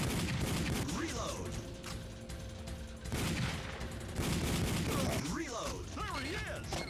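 Time Crisis arcade video game gunfire, dense rapid bursts of shots and explosions in repeated volleys with game sound effects, loud and continuous throughout, no talk heard.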